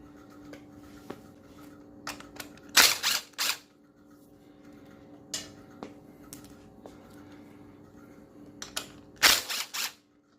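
Two bolts are being loosened on the smog pump of a Honda XR150L motorcycle with a ratcheting tool. Quiet scattered clicks and metallic handling lead up to two louder bursts of rapid ratchet clicking, one early and one near the end.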